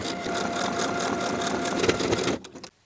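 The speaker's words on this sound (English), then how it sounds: "sew your buttonhole into the waistband" A sewing machine stitches a buttonhole into the waistband of lined cigarette pants, running in a fast, steady whirring chatter close by for about two seconds before stopping abruptly.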